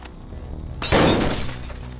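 An object smashes in The Warriors on PS5: a single loud shattering crash like breaking glass, arriving abruptly after a quiet lead-in and trailing into scattered debris.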